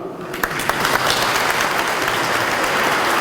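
A crowd applauds steadily, a dense wash of clapping that carries on evenly from start to finish with no voices above it.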